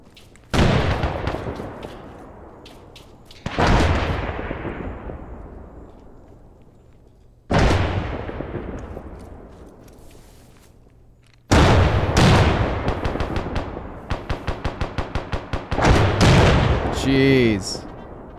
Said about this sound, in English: There's frags being thrown.